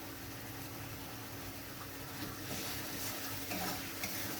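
Turmeric, coriander and chilli powder masala fries with cauliflower and soybean for a curry, a low even sizzle with faint stirring underneath, quiet and continuous without speech.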